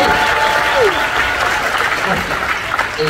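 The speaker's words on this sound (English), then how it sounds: "We should give a big round of applause." Audience at a ventriloquist show aboard the Royal Caribbean cruise ship Navigator of the Seas gives a loud, sustained round of applause, with a voice speaking over the clapping.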